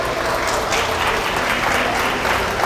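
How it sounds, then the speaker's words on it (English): An audience applauds sheep exhibitors at a livestock showmanship competition, dense steady clapping from a crowd held at an even, fairly loud level for the whole stretch. "let's give our sheep exhibitors a nice round of applause out here."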